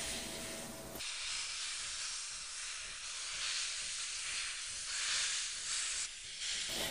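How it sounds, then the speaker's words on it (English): Loud, steady steam hiss from a 1929 Great Western pannier tank locomotive, number 5741, pulling in with a passenger train, fills the whole clip, with a brief rumble at the start and swelling bursts of escaping steam throughout. "a Great Western pannier pulls in with a stopping passenger train."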